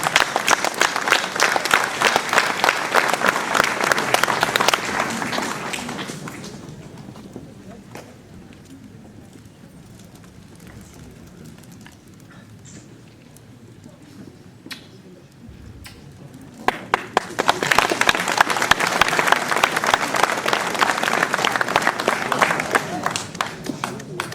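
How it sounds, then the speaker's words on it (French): A civic new-year gathering at the Ouistreham town hall breaks into loud applause for a silver medal recipient, fades to a quiet murmur, then swells into a second strong burst of clapping. "Je veux appeler évidemment Madame Marie-Hélène Lecoeur, médaille d'argent, et on peut l'applaudir"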